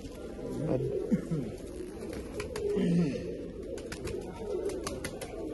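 Pigeons coo softly and repeatedly, low throaty calls overlapping one another, with faint clicks and rustles around them.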